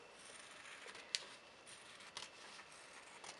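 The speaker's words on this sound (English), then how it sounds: "I'm going to just cut out my heart. I'm going to get a nice pair of sharp scissors" Sharp scissors snip through fabric while cutting out an appliqué heart for a quilt block, a quiet steady rasp of blades with a few crisp clicks, faint and close up with no talking.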